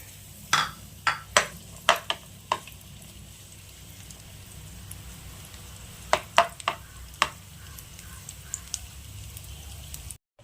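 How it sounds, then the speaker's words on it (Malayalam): Raisins are fried in ghee for Vishu kanji, with a soft, steady sizzle beneath sharp clinks and scrapes of a spoon against the pan in two clusters of stirring, close and without talk. "അപ്പോൾ അത് നമുക്ക് നെയ്യിലേക്ക് ഇട്ട് കൊടുത്തിട്ട് ഒന്ന് വറുത്തെടുക്കാം"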